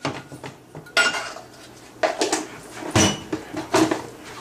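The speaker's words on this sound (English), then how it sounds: "We're going to need hot pan on the fire." A metal pan clanks and scrapes on a stovetop while pecan pralines are being made, with four or five sharp knocks at irregular intervals close by and no talking.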